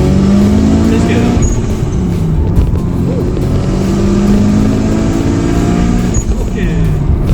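A Mitsubishi Lancer Evolution 5 accelerates and shifts gears on a short road in Sarawak, Malaysia, its engine a loud, steady drone heard from inside the car, with voices talking over it.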